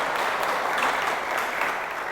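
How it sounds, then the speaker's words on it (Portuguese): A church congregation claps together in steady, dense applause at a Portuguese-language sermon during a mission trip to the United States, loud and continuous throughout with no voices over it. "Deus merece uma salva de palmas ou não?"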